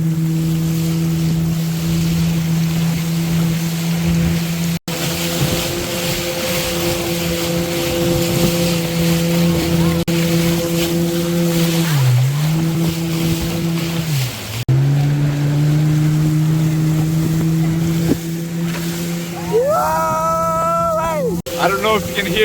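A motorboat pushes upstream against the flow through rough river rapids near Angel Falls, its engine a loud steady drone that dips and surges over rushing water, with a voice speaking briefly near the end.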